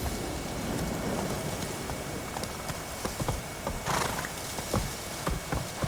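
A horse trots in The Witcher 3 video game with steady hoof clip-clops and an occasional whinny, set against a rainy backdrop and ending with a louder burst of hoofbeats near the close.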